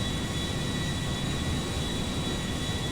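A Boeing 777 airliner in a modded GTA 5 game climbs with a constant, loud, unbroken jet-engine roar and a thin steady whine running through it.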